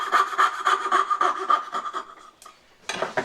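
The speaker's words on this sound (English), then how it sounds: "While I've got the fret saw in hand, I'm going to go back over here and finish this one." A fret saw cuts a wooden dovetail by hand, giving a close, steady run of rhythmic rasping strokes that pause briefly before a final burst of sawing.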